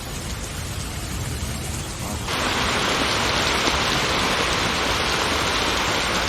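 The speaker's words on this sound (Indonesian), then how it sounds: "posisi sekarang sedang hujan" Steady rain pours on a mountain trail, a dense broadband hiss that swells noticeably louder about two seconds in and stays heavy, close and continuous with no voices.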